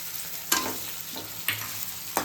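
Ginger garlic paste and green chillies frying in a pan for a prawn roast, a constant close sizzle with three sharp spatula scrapes at steady intervals, no talking.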